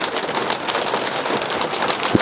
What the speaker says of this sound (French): T'entends le boucan que ça fait quand il pleut?